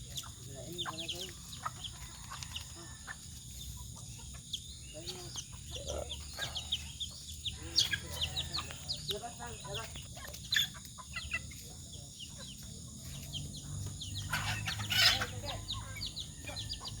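Chickens and a rooster clucking on a Philippine backyard farm, with scattered sharp calls over steady low background noise through the whole stretch.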